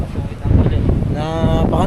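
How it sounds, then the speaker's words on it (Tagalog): Strong wind batters a boat at sea in rough weather, buffeting the microphone with heavy rumbling gusts over churning waves, loud and close, with a voice talking over it. "Napakalakas ng alon ay ng hangin galing diyan"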